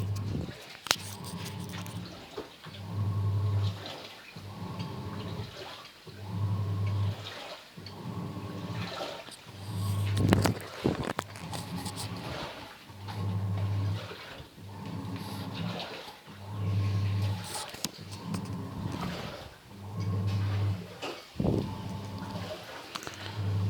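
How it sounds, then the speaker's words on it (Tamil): An IFB washing machine drum fills with water and turns, giving a steady low hum with sloshing, water-like surges that pulse in a regular rhythm about every two seconds, close and alone. "அது தேவைக்கு தண்ணி எடுத்து தேவைக்கு சுற்றிக்கிடும்."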